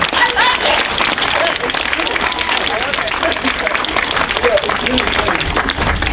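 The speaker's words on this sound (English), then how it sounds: "Y'all really shouldn't clap though" An audience at a poetry reading breaks into steady, full applause that holds the whole stretch, with a murmur of crowd noise mixed into the clapping.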